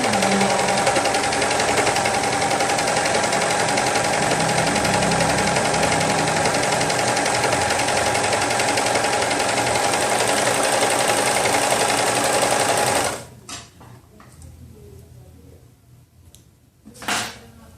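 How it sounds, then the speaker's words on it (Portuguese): A sewing machine stitches a t-shirt hem in one continuous fast, loud, close mechanical whir for about thirteen seconds, then stops, followed by a few quiet handling knocks and clicks. "passei aqui a bainha, para fazer a bainha da barra"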